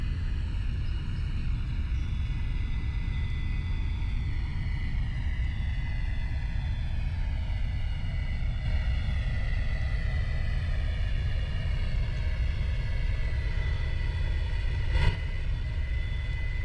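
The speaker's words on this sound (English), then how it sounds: "Taxiing left off the taxiway." A small airplane taxis along an airport taxiway, its engine producing a steady, continuous drone with a slowly shifting whine throughout, loud and close with no talking.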